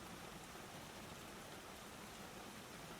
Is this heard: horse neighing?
no